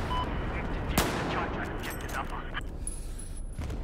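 Battlefield 4 gunfire in Rush multiplayer: a sharp close shot cracks out over a dense background of distant battle rumble and scattered reports, with someone talking through it.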